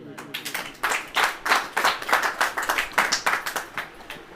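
An audience at a Hindi Christian sermon by Rev. Rohit Massey claps hands in a steady, moderately loud run of claps lasting several seconds, with a murmur of voices underneath.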